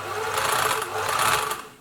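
A Singer 700 series sewing machine runs steadily at speed, a busy, slightly rattly whir with a fast mechanical chatter, close and continuous with no talk.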